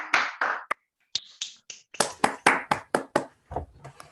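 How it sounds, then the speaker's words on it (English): Scattered claps from online listeners unmuting after a physics talk, a few separate bursts and single sharp hand claps, close and uneven with short silent gaps. "Let's all unmute and applaud."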